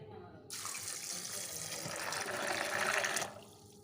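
Tap water runs steadily into a cooking pot for lentils with fish head, a close, continuous rush that starts abruptly, swells slightly as the pot fills, then cuts off.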